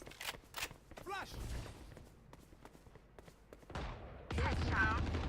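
Gunfire in Valorant, a tactical shooter, with bursts of shots and impacts mixed among game effects and a loud blast near the end; a voice speaks over the action.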